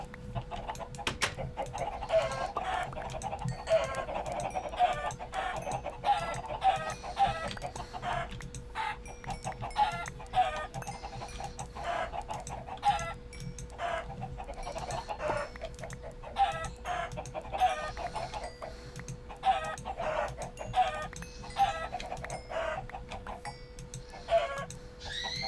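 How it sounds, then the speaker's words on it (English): Minecraft chickens cluck in repeated short bursts over a long stretch, several birds overlapping at moderate loudness against a steady low hum and no talking. "It's getting to be about time to kill some chickens too."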